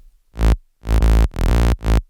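Deep synth bass notes with a heavy low sine sub underneath, four sustained hits separated by brief silences, loud and alone.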